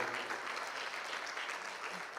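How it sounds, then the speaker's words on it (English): An audience at a seminar claps together in a steady, fairly close round of applause lasting a couple of seconds, with a faint voice underneath. "Let us give a good clap to Niket and his team"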